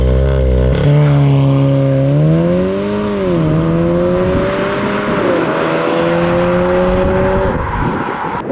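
A Volkswagen Golf 7 R's engine revs up and accelerates, its deep exhaust note, heard from behind the car, rising and holding in loud harmonic tones with no talking.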